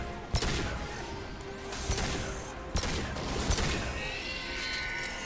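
Gunfire from the player's weapon in Mass Effect 2, a few sharp shots spaced through a dense, noisy battle backdrop, fairly loud and close.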